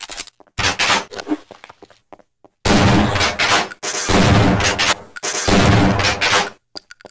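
Shots fired in the video game Half-Life, in three loud, sharp bursts spaced across the span, each followed by brief decaying rumble and clatter.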